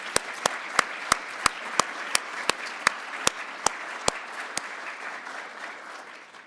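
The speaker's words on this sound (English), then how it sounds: "let's give her a round of applause in absentia" Applause from an academic awards ceremony audience honouring an absent staff member, a steady crowd clapping punctuated by a dozen loud, evenly spaced sharp claps from one nearby pair of hands that stop partway through as the applause fades.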